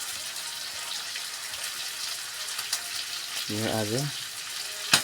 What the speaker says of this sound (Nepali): चिकन फ्राई हानिरहेको छौँ हामी यहाँ